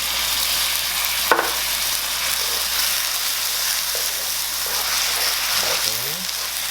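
Coconut milk poured into a hot frying pan during cooking of Indonesian galangal white sauce pasta, sizzling steadily and loudly throughout, with a brief clatter and some stirring scrapes near the end.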